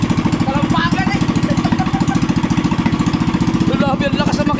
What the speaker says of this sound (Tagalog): Grabe ang lakas ng makina.